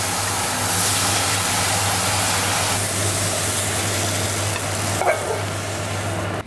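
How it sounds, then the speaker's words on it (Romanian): Mozzarella and parmesan being stirred into a mixture, a steady close scraping swirl over a constant low hum from a nearby cooker or fan, continuous throughout with one brief louder clink near the end. "30 de grame de mozzarella, puțin parmezan de gust. Și amestecăm bine."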